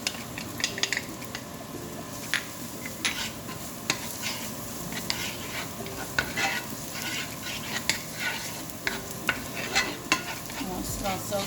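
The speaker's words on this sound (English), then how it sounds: "I'm just going to add in the garlic." Garlic hits a hot pan for a honey garlic salmon sauce and sizzles steadily, with a utensil stirring and scraping against the pan in frequent light clicks and knocks. No voices are heard.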